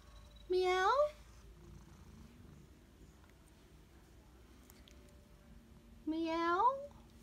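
A pet cat gives two rising meows about five seconds apart, fairly close and clear, with a soft low rumble of purring underneath in a quiet room.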